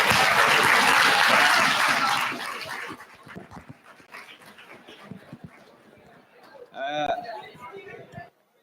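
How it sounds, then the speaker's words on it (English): Audience applause for student election candidates at a campus meet-the-candidates event, a loud burst of clapping for about two seconds that fades into scattered murmurs, followed by a short high-pitched squeak near the end. "Please give a round of applause for them."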